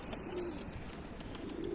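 Baska tumbler pigeons coo softly during an early-morning flock flight, a few low, rolling coos coming and going at moderate distance over light background chirps.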